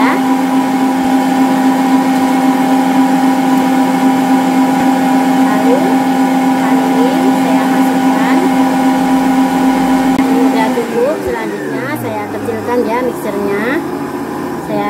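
A Mr. MX100 stand mixer runs steadily with a loud, constant motor whine while mixing dough ingredients, then the tone drops and wavers near the end as the load shifts; a person talks over it.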